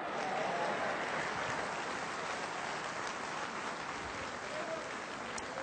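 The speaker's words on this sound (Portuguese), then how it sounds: "Você pode aplaudir ao Senhor?" A church congregation applauds: a broad, steady wash of many people clapping, heard at a distance and fairly faint, continuing evenly for several seconds.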